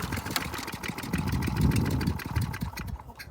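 A Toro lawn mower engine sputters and runs roughly after a durability abuse test, its rapid uneven chugging loud and close, swelling in the middle before briefly trailing off.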